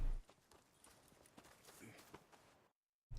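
A Shire horse in Red Dead Redemption II walks with soft, irregular hoof clops, fairly quiet and close, before a short cut to silence.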